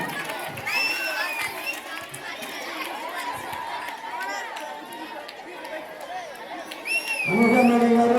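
Students at a school retirement function cheer and shout for their headmaster, a steady crowd din of voices and clapping that swells louder near the end.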